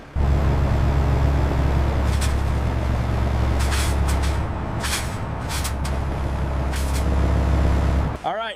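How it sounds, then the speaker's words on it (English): A truck pulls into a factory loading area with a heavy, close engine rumble and several sharp hissing bursts of air brakes, ending in a short squeal, while people talk. "All right, truck's here."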